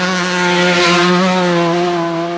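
A Mazda RX3 rotary engine with open exhaust gives a loud, high-pitched buzz that drones steadily with a raspy edge, rising slightly in intensity midway.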